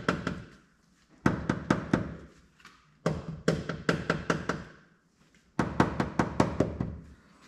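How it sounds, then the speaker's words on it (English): Knuckle knocks on the door panel of a third-generation Toyota Camry during a sound system upgrade, fired off in three quick bursts of sharp, close taps with short pauses between them. "Now let's do another knock test."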